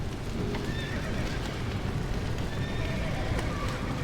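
Horses in the Red Dead Redemption video game neighing and whinnying amid busy clip-clopping hooves, a dense, steady wash of game sound with voices mixed in.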